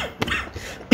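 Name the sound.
cough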